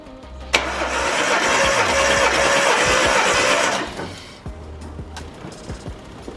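A high-mileage car engine with about 450,000 km on it cranks over steadily on the starter for roughly three seconds during a compression test, then stops, leaving only light clicks and handling noises nearby.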